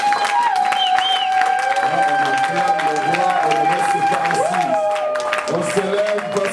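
A church congregation cheers and applauds to acclaim the king, with dense continuous clapping and shouts filling the room throughout, while a voice sings or calls out over the crowd.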